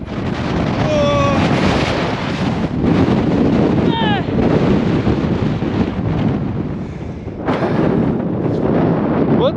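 Strong wind buffets the microphone while cycling steeply uphill in Monument Valley, a loud continuous roaring rush with gusty swells and brief faint voice-like tones.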